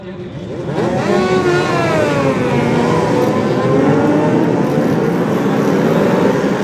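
Racing motorcycles at the Bol d'Or circuit roar past in a loud, continuous engine drone with rising and falling pitch sweeps as they pass close by, filling the whole stretch without pause.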